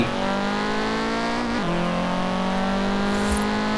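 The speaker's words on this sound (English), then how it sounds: "Audi TT." An Audi TT engine revs steadily, its pitch holding, then dropping briefly and settling into a sustained, loud drone, heard close with no talking.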